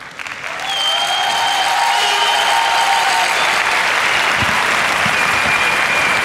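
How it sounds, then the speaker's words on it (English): A crowd at a karate world championship applauds a kata performance, the clapping rising quickly into sustained, loud, dense applause. "They're getting some appreciation from the crowd."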